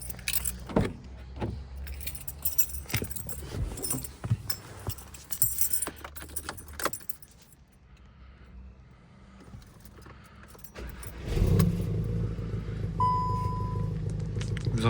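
Volkswagen Golf 7 GTI being started: keys jangle and interior clicks, then the engine cranks and fires into a steady low idle rumble, close by, without talk.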